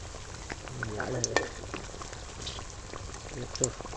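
Tomato and potato chops deep-frying in hot oil, a low steady bubbling sizzle with faint crackles, close by, with a voice murmuring briefly in the background.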